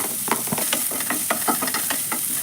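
Chopped onion sizzles steadily in hot oil in a pan, with repeated scraping stirs at an irregular rhythm, close by and without talk.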